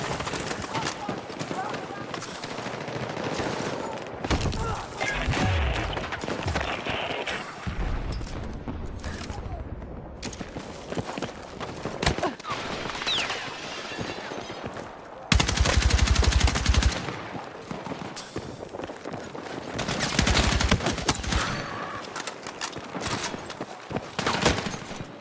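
Rapid SMG bursts fire in a first-person shooter match, with repeated fusillades and heavier booms loud in the foreground. A player talks over the shooting throughout.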